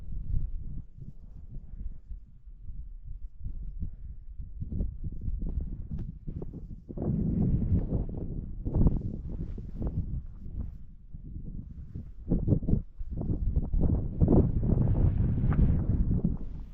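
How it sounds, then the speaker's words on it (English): Strong wind in the Wind River Mountains during a backpacking hike, buffeting a microphone in loud, uneven rumbling gusts that rise and fall throughout, with no voices. "but it is so windy"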